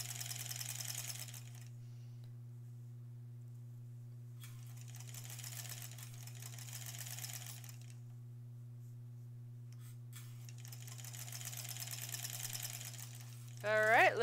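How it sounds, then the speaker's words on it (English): Domestic sewing machine stitching an embroidered Halloween tote bag, running in three separate bursts with pauses between, moderately loud over a steady low hum, with a brief voice at the end. "so I'm just gonna sew."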